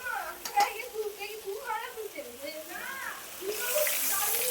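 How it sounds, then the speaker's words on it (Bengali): Water is poured into a pan of fish curry with melted tomato, a rushing splash that rises near the end after a stretch of quiet humming voice over soft kitchen noise. "এবার আমি জল দিয়ে দেবো।"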